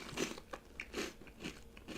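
Burger Rings chips being crunched and chewed close up, a series of crisp bites and crackly chews in an irregular rhythm, fairly quiet and with no talking.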